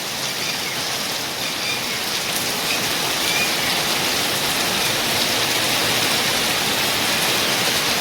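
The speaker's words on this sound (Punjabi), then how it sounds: "ਬਹੁਤ ਤੇਜ਼ ਮੀਂਹ ਪੈ ਰਿਹਾਗਾ" Heavy rain pours steadily and loudly outdoors, a dense even hiss of falling drops with no voices or other sounds over it.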